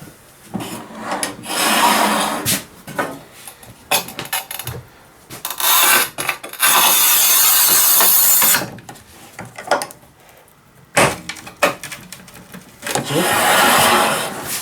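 A TOPVEI TC-X01 1200 mm manual tile cutter scores tile in repeated loud, gritty scraping strokes, each a burst of a second or two separated by short pauses, close up with no talk.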